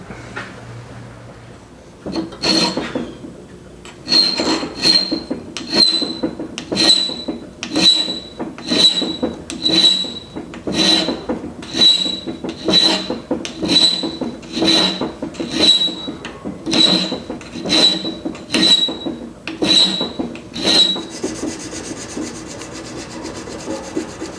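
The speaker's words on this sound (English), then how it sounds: "So I'm gonna go to the bench vise and shape this area by hand" A folding knife held in a bench vise is shaped by hand, giving loud, close, rhythmic rasping strokes, roughly one per second, repeated steadily about twenty times.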